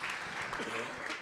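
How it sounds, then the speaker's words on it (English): Conference audience applauding during a panel talk, a brief burst of many hands clapping with faint voices mixed into the crowd noise. "Let's clap for that."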